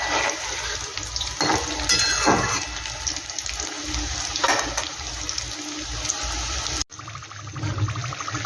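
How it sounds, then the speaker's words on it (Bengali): Twist rolls fry in hot oil in a wok, giving a loud, continuous sizzle with bursts of bubbling and stirring that suddenly cut off near the end. "বন্ধুরা দেখো এই রোলগুলো খুব সুন্দর আমার ভাজা হয়ে গেছে।"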